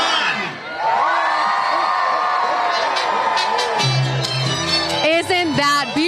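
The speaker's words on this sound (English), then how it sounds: "People are cheering as we look at these gorgeous lights together." A crowd gathered at a holiday lights countdown cheers and whoops loudly and continuously, with children's shouts, and voices rise above it near the end.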